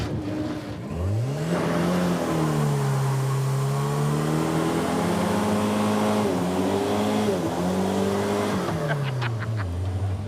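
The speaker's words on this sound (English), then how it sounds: "It does 2 burnouts." A small car does burnouts at Woodburn Drag Strip, its engine revving hard and rising and falling in pitch for several seconds, loud and close, with tire noise under the roar.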